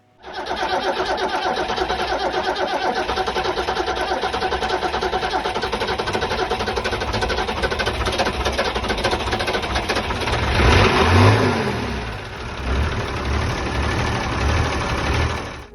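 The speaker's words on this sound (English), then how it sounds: "Craig turned the engine off as quick as he turned it on." A boat's inboard engine, freshly fitted with a new impeller, runs with a steady rapid mechanical chatter, close and continuous, surging briefly near the end before settling.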